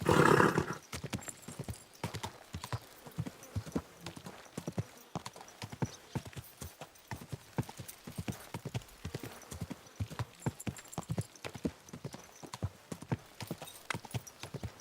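Steady clip-clop of horse hooves in the video game Kingdom Come: Deliverance II, a brisk rhythmic trot with a brief whinny-like burst at the start, fairly close and clear.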